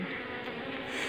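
Apis cerana honey bees buzz close by during a colony split, a dense, continuous drone with a slightly wavering pitch.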